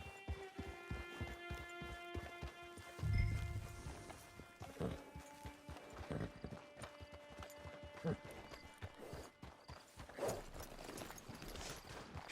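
Horse hooves clip-clop at a steady walking rhythm in the Red Dead Redemption 2 Online video game, layered under continuous game audio and voice-like sounds throughout.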